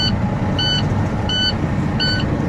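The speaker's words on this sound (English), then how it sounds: "Now we're turning back on our truck" An air-brake truck's engine idles after being restarted, giving a steady low rumble. High electronic beeps sound at regular intervals over the engine, with no talking.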